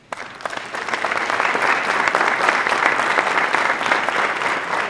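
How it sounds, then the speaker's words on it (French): Sustained applause from an audience at a vocational training centre ceremony, honouring teaching staff; dense, steady clapping rises quickly and holds loud for several seconds, with no talking over it. "Je crois qu'on peut les applaudir aussi."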